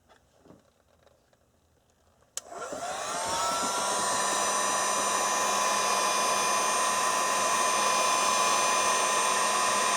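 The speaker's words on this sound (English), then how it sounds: "And what I'll do now is just take the heat gun and apply some heat on a low setting." A heat gun on a low setting shrinks heat-shrink tubing on a wire for a 1992 Acura Legend spoiler load resistor. It starts with a click after quiet, then blows a loud, steady whoosh that holds without talk.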